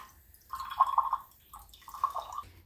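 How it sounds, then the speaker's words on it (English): Water poured into a small five-finger vase, two short trickling, gurgling bursts with a pause between, close and quiet. "I put a little bit of water in this."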